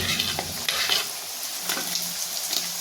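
Chopped ginger hits a hot pan while cooking a Punjabi mixed-vegetable sabzi, giving a steady close sizzle broken by a few scraping stirs of the spoon. No one speaks.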